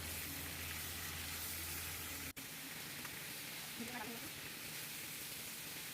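Chicken pieces frying in a pan after cloves, cardamom and cinnamon have gone in, a continuous hissing sizzle with a low hum that drops out partway, plus faint stirring clinks near the end.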